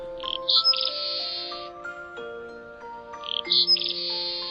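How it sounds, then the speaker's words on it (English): Seaside sparrow song: two short bursts of bright, buzzy trilling notes heard close and clear, separated by a pause, over a sustained tonal background with no talking. "And that bird would be the seaside sparrow."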